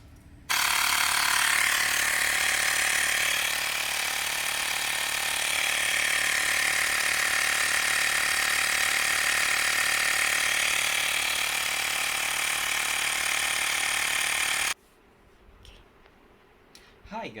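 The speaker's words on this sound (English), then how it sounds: "today I have the Xiaomi portable air pump" A Xiaomi Mijia portable electric air pump inflates a car tire to 2.2 bar, a loud, steady buzzing drone with rapid rattling compressor pulses that runs unbroken for about fourteen seconds, then cuts off to quiet background.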